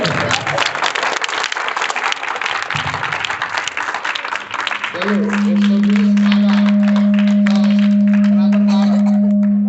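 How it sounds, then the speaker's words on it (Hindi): Students in a maths classroom clap together for several seconds, followed by a steady electronic tone droning alone through the rest. "बहुत अच्छा, ताली बजा दो"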